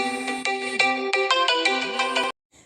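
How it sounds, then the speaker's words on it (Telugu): A mobile phone ringtone plays a bright, repeating electronic melody of quick notes for about two seconds, loud and close with no talk, then cuts off abruptly into silence. "మధ్యలో ఫోన్ అయితే వచ్చింది."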